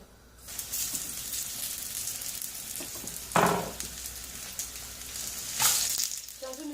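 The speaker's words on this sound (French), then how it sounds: "Maintenant on va procéder à la friture du poulet." Chicken frying in hot oil in a pan, a steady close sizzle with louder bursts of crackling spatter as pieces are added or stirred, no talking.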